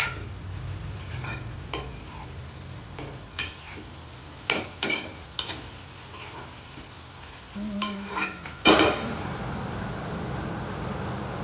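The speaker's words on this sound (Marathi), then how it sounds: "ही थोडी परतून घ्यायची, नाहीतर आलं लसूणचा वास तसाच राहील कच्चा. तर मी ही चांगली परतून घेत आहे." Ginger-garlic paste sautéing in a pan for pav bhaji, a soft low sizzle broken by sharp spoon-on-pan clinks and scrapes, some spaced and some in quick clusters, close and moderately loud.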